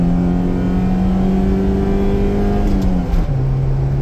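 A Honda Civic wagon with a Weber carburetor accelerates on the road. The engine drones loudly and steadily, its pitch climbing, then drops abruptly near the end as if shifting gear.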